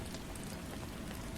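Steady rain fills the space with a dense, even hiss and patter, continuous and moderately soft, with no voices.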